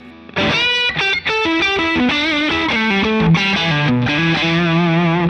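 Suhr Alt T Pro electric guitar on its neck-position pickup setting, with a warm, rounded tone, plays a descending melodic phrase, slightly overdriven and sustained, alone and loud throughout.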